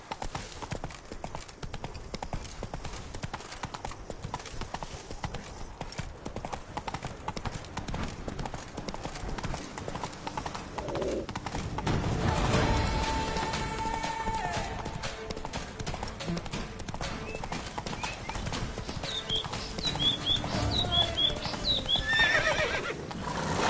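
Roach, the horse in The Witcher 3 video game, gallops with continuous rapid hoofbeats, swelling louder midway, and lets out whinnying neighs near the end.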